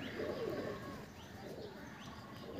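Madras pigeons in a loft cooing softly, a few low, faint coos drifting over a quiet background.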